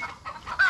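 A chicken clucks in a few short, close calls, ending on a higher squawk.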